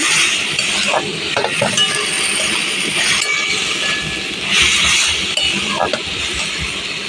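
Ground turmeric, cumin and Kashmiri chilli fry in a pan with a continuous close sizzle while a utensil stirs and scrapes through them, with occasional light clinks throughout.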